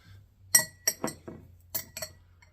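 A spoon clinks against the rim of a glass while a layered drink is prepared, giving several sharp, bright ringing taps in an uneven sequence with short gaps, close and clear over a low steady hum.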